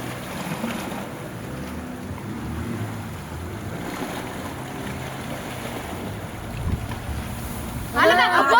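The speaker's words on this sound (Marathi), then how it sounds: "एवढी फास्ट लाट नव्हती तरी सुद्धा केवढं पाणी आलं." Seawater surges and churns against coastal rocks on the Konkan shore, a steady rushing wash under wind noise that swells into a louder gurgling burst near the end.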